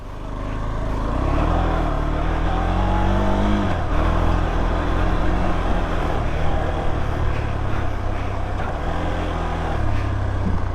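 A car laps a 1.5 km drift track at a track-opening event. Its engine drones loud and near, and the revs rise and dip repeatedly as it works through the corners.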